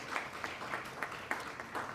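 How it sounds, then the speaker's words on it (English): Faint audience applause at an academic ceremony: a thin, steady patter of clapping from a room of listeners, with no single hand standing out, lasting the full two seconds. "Let's give them another round of applause."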